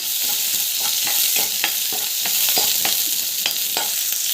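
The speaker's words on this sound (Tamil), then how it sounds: "சின்ன வெங்காயம், பூண்டு, ஸோ கடலைப்பருப்பு நல்லா வந்து வதக்கிடுவாங்க." Shallots, garlic and chana dal sautéing in a pan, a continuous bright sizzle broken by regular scraping strokes of a spoon stirring the mix.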